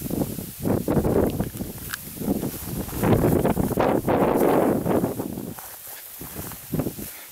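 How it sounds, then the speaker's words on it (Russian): Wind sweeping across a field of spring wheat of the Trizo variety, a steady broadband rush that swells and fades in gusts, loudest in the middle and easing off near the end, with no talk. "Красиво, конечно, ветер пшеницу качает."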